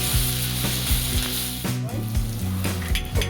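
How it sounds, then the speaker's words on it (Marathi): Egg masala sizzles steadily in a hot pan, with salt added, while a spatula scrapes and stirs it in repeated strokes. The frying is close and even, and there is no talk. "आपण याला 2-3 मिनिटं परतून घेऊया."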